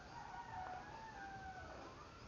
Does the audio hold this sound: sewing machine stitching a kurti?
no